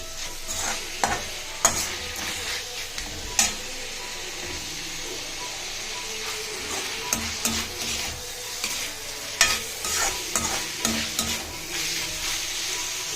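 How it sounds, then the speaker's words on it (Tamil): Tomatoes and onions sauté in a pan for onion chutney, a steady close sizzle broken by frequent scraping stirs, with no voices. "நல்லா சுருள வதங்கணும் இந்த தக்காளி."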